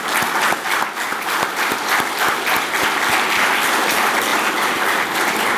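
A conference audience at MIECA 2024 breaks into sustained applause: dense, even clapping from many hands that carries steadily through the whole stretch without voices.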